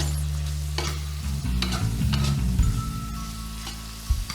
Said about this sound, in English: in a pan add onion, capsicum and beans and cabbage which is cut in juvenile style